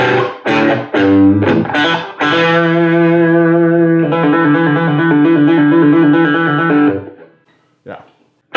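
Heavily saturated electric guitar through a Peavey Special 130 amp with the gain near maximum: a few sharp strummed stabs, then a long sustained distorted chord ringing about five seconds before cutting off, loud and close.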